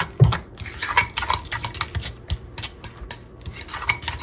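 Egg salad with Old Bay and extra mayonnaise is stirred in a bowl, a close series of uneven scraping and rubbing strokes with soft clinks of the utensil, no talking.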